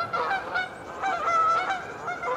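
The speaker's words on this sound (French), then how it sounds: "Les oies sauvages qui passent." Wild geese honk in a loose series of calls as they fly over a garden in early spring, clear and moderately distant, with no talking.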